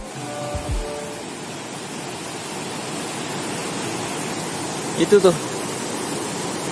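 A broad, constant roar of falling water fills the air at Curug Gombong waterfall, loud and unbroken, with a few short spoken words near the end.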